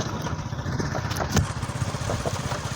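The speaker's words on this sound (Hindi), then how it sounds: "ये देख सकते हैं हम मोटरसाइकिल पे हैं" A motorcycle engine drones steadily while riding, a close, continuous mid-pitched putter with one brief louder bump.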